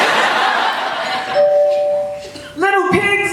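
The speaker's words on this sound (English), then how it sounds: "he huffed, and he puffed, and he rang the doorbell." A doorbell rings once with a clear sustained chime tone, followed by a second bright ding-dong burst; talk and laughter surround it.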